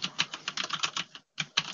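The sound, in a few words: typing on brown-switch mechanical keyboard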